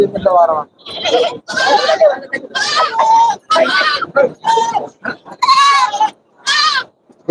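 Goats bleating at a farm where goats are sold by weight, several loud, wavering, near calls following one another closely, with people talking among them.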